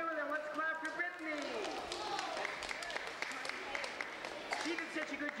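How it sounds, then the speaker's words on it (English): An audience claps for a volunteer during a magic trick demonstration. The clapping is scattered and moderate, heard under and between a speaker's voice. "Let's clap for Brittany."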